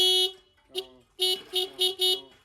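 A motorcycle horn honks six times nearby during a wash: two separate beeps, then four quick toots in a row.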